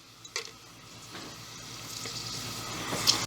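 Cumin, pepper, bay leaf, cinnamon, cloves, kalpasi and cashews frying in oil in a pan give a steady close sizzle with soft stirring scrapes, quiet and continuous for a few seconds.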